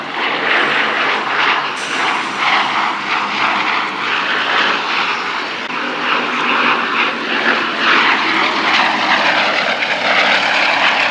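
Blenheim light bomber engines drone steadily overhead at the Duxford Battle of Britain air show, a loud continuous propeller roar with gentle swells in pitch as the aircraft passes.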